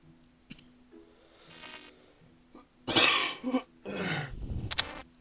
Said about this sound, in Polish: Niestety mam kaszel